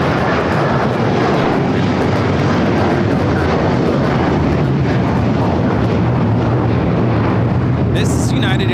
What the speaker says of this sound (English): This is United Airlines 2113 taking off to Chicago on the 757-300.